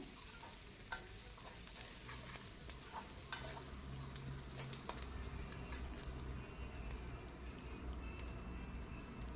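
Oil sizzles and crackles steadily in a pan as chopped green chillies fry in a tempering, with occasional sharp pops and a soft stir, no voices present.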